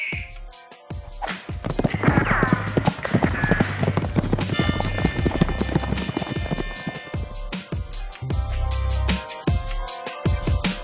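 Horse hooves clip-clop steadily in a Wild West video game, close and loud, mixed with whip cracks, a horse's whinny and game music and effects, with no voices over it.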